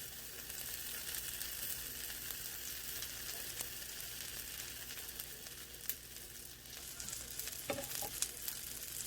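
Silver dollar pancakes with saskatoon berries cook in a pan with a soft, steady sizzle and an occasional faint tap, heard alone.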